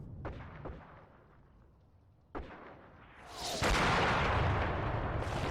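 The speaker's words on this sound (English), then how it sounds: "Really would have liked that artillery strike to get placed a little sooner." Artillery strikes land in Graviteam: Fateful Strike: two separate sharp booms with rolling decay, then a loud, sustained roar of explosions that fills the last seconds.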